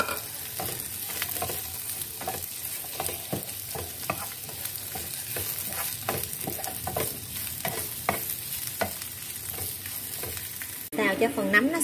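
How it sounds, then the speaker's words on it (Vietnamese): Mushrooms stir-fry in oil with browned garlic in a pan for a duck noodle soup. A steady, close sizzle runs throughout, broken by a regular scrape and clack of stirring, with no talk. "Tỏi vàng thơm thì mình sẽ cho phần nấm vào mình xào lên."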